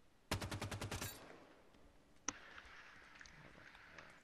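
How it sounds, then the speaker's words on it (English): Rapid burst of about eight gunshots in the Halo 5 game, loud and evenly spaced over under a second, followed by a single sharper shot and quieter game ambience. "Follow my gunshots."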